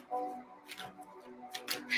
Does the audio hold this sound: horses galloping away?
no